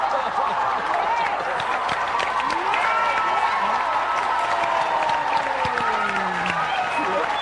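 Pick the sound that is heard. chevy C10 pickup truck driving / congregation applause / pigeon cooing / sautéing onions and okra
congregation applause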